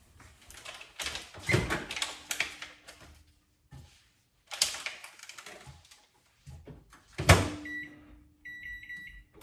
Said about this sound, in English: and then you microwave this for 20 to 30 seconds.